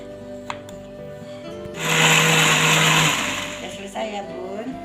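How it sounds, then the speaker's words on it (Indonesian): An electric blender grinds ginger, salt and a little oil into a paste for gulai, a loud steady whir of about a second and a half rising out of a quiet kitchen and then fading away. "Langsung kita blender ya"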